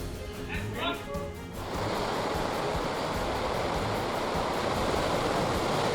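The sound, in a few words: brutal ocean waves at Plawangan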